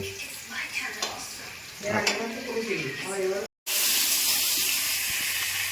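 Bhog cooking on gas stoves for a home Poush Lakshmi puja, with puli dumplings boiling and cabbage in a pan: a dense, loud, steady hiss and sizzle, briefly cut off, with faint voices in the background early on.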